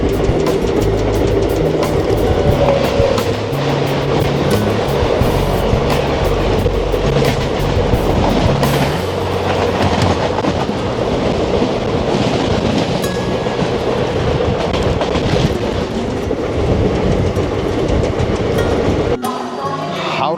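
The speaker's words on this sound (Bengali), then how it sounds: "চলে আসছে 15262 স্বতন্ত্রতা সেনানী এক্সপ্রেস, নিউ দিল্লি থেকে জয়নগর, WFA7 ইঞ্জিন নিয়ে।" The Swatantrata Senani Express, a New Delhi to Jaynagar train hauled by a WAP7 electric locomotive, passes at a station with a loud, sustained rumble and rhythmic clickety-clack of wheels over rail joints.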